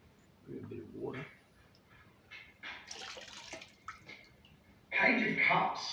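Water added to a raw clay vase while throwing on the wheel, with short splashes and trickles, a louder wet burst near the end, and talk heard faintly around it.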